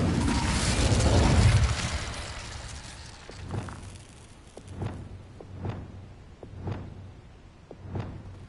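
A fire spell cast in the video game Hogwarts Legacy gives a loud, dense whooshing burst, then a string of sharp, evenly spaced pops and crackles that fade out.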